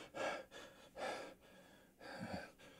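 A voice imitates a camera operator's heavy breathing, producing three loud, rhythmic huffing breaths spaced about a second apart, close and breathy with no words.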